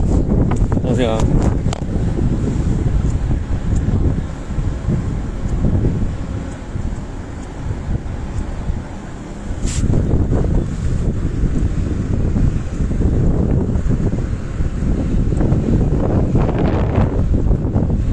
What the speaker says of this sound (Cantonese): 哇，好大風！